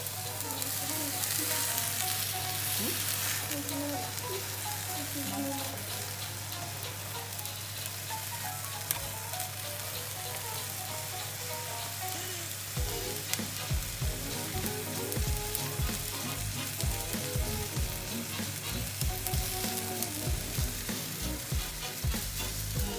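Burger patties sizzle and crackle steadily in a hot pan, a dense, continuous frying hiss with occasional pops and scraping near the end.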